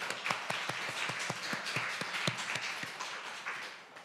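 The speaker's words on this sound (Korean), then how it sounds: "그분께 우리 영광의 박수 올려드리겠습니다." Applause from a church congregation during a Korean sermon, a steady patter of hand claps at moderate distance that fades toward the end, with no talking over it.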